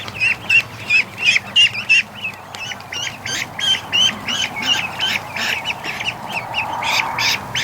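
A flock of very small ducks quacks loudly and steadily near the listener, the calls overlapping in quick repeated bursts throughout, with no talking.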